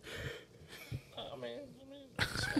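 Throat clearing during a casual conversation, a few short rough bursts close to the mic, mixed with brief voiced sounds and breathy noises.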